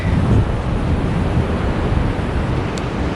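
Strong wind buffets the microphone on a summer beach at Myrtle Beach, with a continuous low rumble of ocean surf underneath, loud and steady throughout, no talking.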